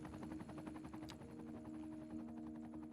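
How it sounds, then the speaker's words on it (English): A helicopter in the city-building game Cities: Skylines 2 passes by as a faint, steady rotor drone with a soft buzz. "You heard the helicopter fly through the screen."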